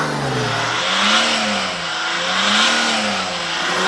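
A Mercedes S-Class with a 3.2 litre straight-six diesel revs up and falls back twice, a steady, gruff mid-pitched drone that rises and sags in slow swells, heard close and loud.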